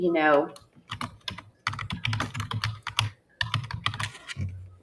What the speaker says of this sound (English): we would just click in here, hit the backspace button